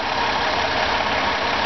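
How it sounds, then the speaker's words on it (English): A 2009 Ford Escape XLT with a 3.0-liter Duratec 24-valve V6 idles steadily at close range, a constant low rumble with no voices over it. "comes with a 3-liter V6 engine"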